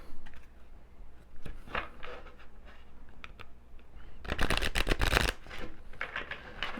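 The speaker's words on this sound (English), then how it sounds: "let's see if I can shuffle this deck" A deck of Doreen Virtue animal oracle cards being shuffled by hand, soft papery riffles and taps close to the microphone, building to a dense, louder burst of card flicking midway.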